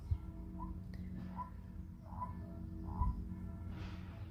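A frog croaks faintly several times at a steady pace, short throaty calls over a low background hum.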